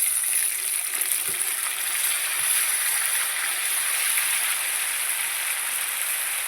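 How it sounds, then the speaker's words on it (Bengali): Water streams steadily into a bowl as it is rinsed out, a continuous close splashing hiss lasting throughout, with no voices. "বাটিটা ধুয়ে জল দিয়ে দিচ্ছি"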